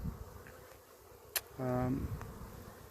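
A single honeybee buzzes close by for about half a second as bees fly into a hive, a low droning hum rising above quiet outdoor background noise.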